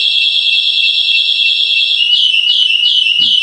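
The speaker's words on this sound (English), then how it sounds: "Somebody walked too close to the cat alarm." A motion-triggered cat deterrent alarm sounds nearby, a loud continuous high-pitched electronic tone that shifts into rapid repeated pulsing chirps.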